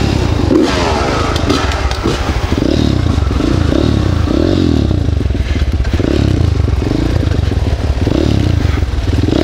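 Off-road motorcycles, a pit bike alongside KTM enduro bikes, ride a trail with loud, close engine drone, rising and falling revs, and clattering chassis and scraping over rough ground throughout, with no voices.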